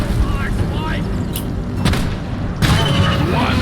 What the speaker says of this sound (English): Grenade, grenade!